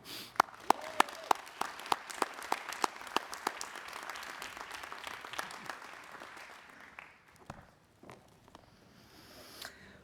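Warm audience applause at a Dartmouth Guarini School graduate investiture ceremony, many hands clapping with sharp individual claps near the start, then thinning and fading toward the end.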